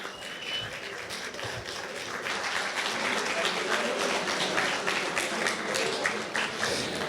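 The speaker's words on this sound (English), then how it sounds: "Ladies and gentlemen, big applause for our winner of today's match" An audience applauds the winner of an arm wrestling match, a dense, steady wash of clapping that swells after the first couple of seconds and holds, with talking faintly underneath.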